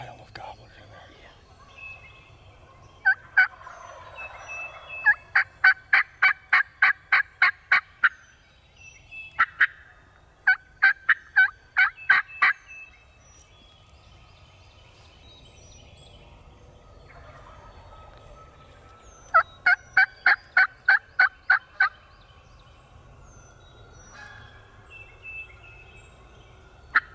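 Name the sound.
wild turkeys gobbling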